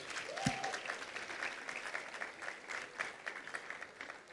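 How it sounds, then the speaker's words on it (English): Conference attendees at a financial event give themselves a round of applause, a continuous, even patter of many hands clapping at moderate distance, with a brief tonal chirp near the start. "Please give yourself a round of applause"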